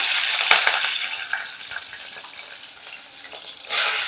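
Green chillies frying in hot oil give a steady, bright crackling sizzle with scattered pops and spatters, loud at first, easing a little, then flaring sharply again near the end, with no voices.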